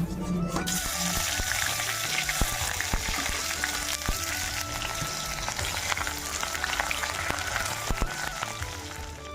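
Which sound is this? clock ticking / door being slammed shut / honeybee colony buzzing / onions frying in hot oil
onions frying in hot oil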